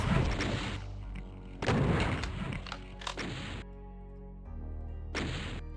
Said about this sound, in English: once we clear that area, you can hear all these Revenants